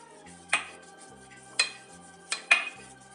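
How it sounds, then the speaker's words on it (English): A baking tin being buttered gives a few scattered metallic knocks and scrapes, about four distinct clinks spaced apart over a quiet background. "So I'm using this to butter the tin"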